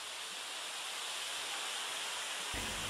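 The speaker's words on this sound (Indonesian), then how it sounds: "Seperti inilah keindahan air terjun berwarna hijau toska di Desa Mulyo Agung, Kecamatan Singgahan, Kabupaten Tuban" Broadband rushing roar of the green-turquoise Putri Nglirip waterfall in Mulyo Agung village, Singgahan, Tuban, steady and enveloping, with a low thump near the end.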